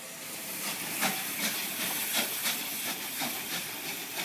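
Steady broadband hiss of escaping steam with periodic puffs and rail noise, Southern Railway Battle of Britain Class steam locomotive 34007 Wadebridge shunting slowly nearby at Alton, with no voices.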